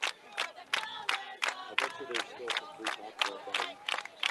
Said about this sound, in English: it's great to hear all the crowd in front of us, and they're cheering sounds like a loud. home game